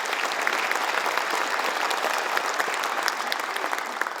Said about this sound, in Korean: 심평 변호사한테 박수 한번 해주시기 바랍니다.